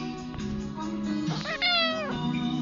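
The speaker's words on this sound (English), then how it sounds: "Did you hear my cat's meow?" A cat meows in the Roblox game Adopt Me, a couple of short meows followed by a longer, clear, rising-then-falling meow, close and prominent over a soft background.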